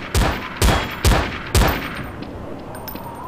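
Gunfire in the shooter video game Counter-Strike: Source, four loud close shots spaced about half a second apart, followed by fainter distant pops.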